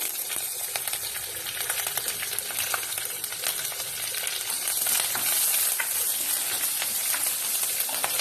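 Hot oil spattering and sizzling continuously in a pan while sabudana khichri cooks, a dense crackling hiss that grows slightly busier toward the end, close and fairly loud, with no talking.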